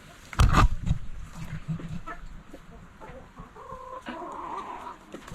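A small rooster gives a loud squawk up close, followed by softer clucks and a drawn-out call as other birds murmur in the background.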